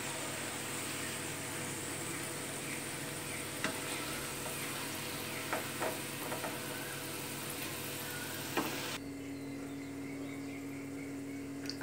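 Potatoes fried in hot oil in a kadhai for chili potato sizzle steadily and loudly, with scattered clinks and scrapes as they are lifted out; near the end the sizzle drops to a quieter, thinner hiss.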